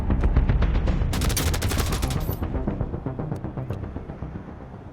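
Sustained automatic gunfire from the shooter game Division Resurgence, rapid overlapping bursts with a loud cluster of sharp cracks midway, gradually thinning and fading toward the end, no voices.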